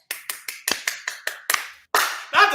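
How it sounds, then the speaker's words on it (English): A few people clapping in slow, separate, evenly spaced claps, close and distinct, ending with a louder burst and a short voice. "I believe we deserve applause"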